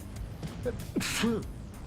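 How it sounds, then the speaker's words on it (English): A single person sneezes in short bursts, with a sharp intake of breath and a quick, loud release in the middle of an otherwise quiet moment. "And I feel a sneeze coming on."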